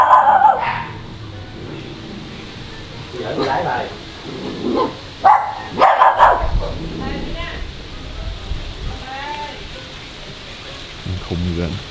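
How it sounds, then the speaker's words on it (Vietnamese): A dog that is being teased barks aggressively in several sharp bursts close by, mixed with people talking and a patter like rain in the background. "Tao chọc chó mày coi nè."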